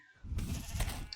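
A sheep in a modded singleplayer farming game lets out one faint, quiet bleat lasting about a second against a soft background.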